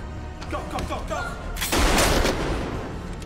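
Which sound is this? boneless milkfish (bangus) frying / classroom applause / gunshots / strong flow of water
gunshots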